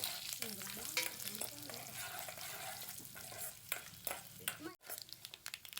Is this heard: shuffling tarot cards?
no